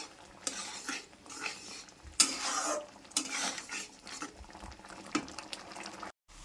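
Tomato chutney with added sugar stirred in a pan, a spoon scraping and clinking against the metal in irregular close strokes over a soft sizzling bubble, with no voices.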